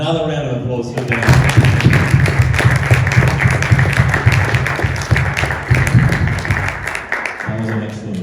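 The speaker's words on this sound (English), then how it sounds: "First of all, let's give another round of applause for Dan." An audience at a lecture on the Doric dialect breaks into loud, close clapping that lasts about six seconds, with a voice speaking just before and after the applause.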